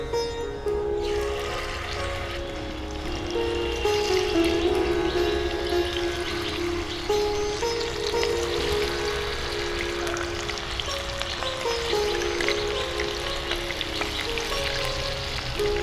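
Chicken pieces for masala fried chicken dropped one by one into very hot oil, setting off a steady, dense sizzle and crackle that carries on throughout with no talking.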